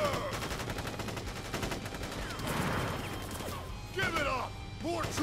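Gunfire volley from a squad of troops in the Crisis Core Final Fantasy VII Reunion video game set in Wutai, with dense overlapping shots and crashes over a few seconds, and voices talking over the shooting.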